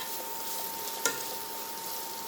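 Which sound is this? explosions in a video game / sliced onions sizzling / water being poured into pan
sliced onions sizzling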